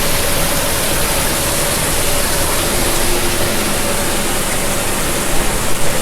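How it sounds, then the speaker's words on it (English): Emergency shower running at about 20 gallons per minute, fed by a Chronomi BOXER electric tankless high-flow water heater: a steady, loud, broadband rush of water pouring without a break. "And here you have the emergency shower."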